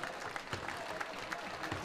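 A crowd applauding at the close of the second period of an FM Cup game, a steady wash of clapping heard briefly and moderately loud, with a voice speaking over it.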